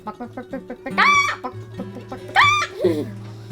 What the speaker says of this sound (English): They make these really funny noises when they're laying eggs.